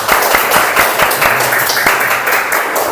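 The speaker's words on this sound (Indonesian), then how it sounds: "Bagus untuk tepuk tangan anak-anak." Schoolchildren in an Indonesian madrasah classroom clap together in steady, loud rhythmic applause, close and continuous throughout.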